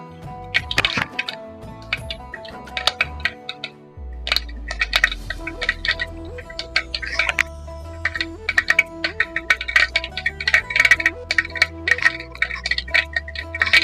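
Mustard seeds pop in hot coconut oil in a clay curry pot, a dense, irregular crackle of sharp little snaps and ticks that speeds up and goes on steadily, with no voices.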